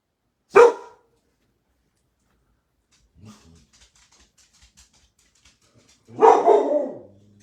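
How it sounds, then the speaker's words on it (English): A dog barks sharply once, then after a quiet pause with faint rustles, gives a longer, louder bark in a quiet room. "Do you hear the dog? He hears a noise outside."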